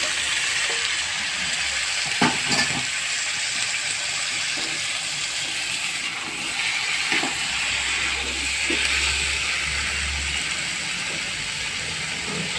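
Chopped vegetables stir-frying with turmeric in a pan, a steady close sizzle running throughout with a few scraping stirs and clinks, no talking.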